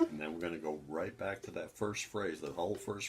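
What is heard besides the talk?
None of the usual background noises is heard.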